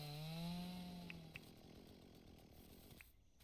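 In the Dinkum video game, something is chopped down with a steady whining, saw-like drone. A low tone falls away early and a few faint clicks sound before the noise cuts off near the end.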